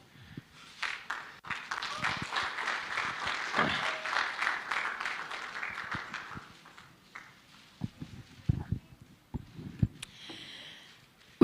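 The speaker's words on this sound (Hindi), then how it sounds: "एक और बार जोरदार तालियों के साथ लेडीज एंड जेंटलमैन" An audience at an anniversary event claps loudly for several seconds, dense applause that fades into scattered claps and knocks near the end.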